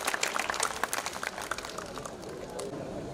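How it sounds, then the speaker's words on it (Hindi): Audience applause breaking out at a Hindi kavi sammelan as a Padma Shri poet is welcomed to the stage, a dense patter of many hands that stays fairly steady throughout. "जोरदार तालियां बजाकर आप स्वागत करें डॉक्टर सुरेंद्र"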